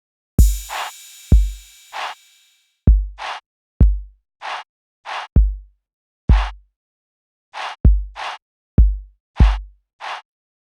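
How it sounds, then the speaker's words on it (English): Drum mix from a production session, the kick drum processed with an Aphex exciter: deep, thumping kicks land in a steady groove with bright snare and hi-hat hits between them, loud and upfront with no talking. "Got the kick really just thumping."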